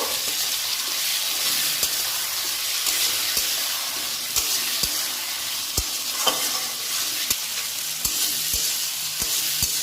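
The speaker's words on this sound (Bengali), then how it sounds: "এবার এর মধ্যে আমি গোবিন্দভোগ চালটা দিয়ে দেবো। একটুখানি ভালো করে নাড়িয়ে নেব।" Gobindobhog rice being stirred into cooked spice paste in a frying pan, a constant loud sizzle with regular sharp scrapes and knocks of the spoon against the pan, close up, no voices.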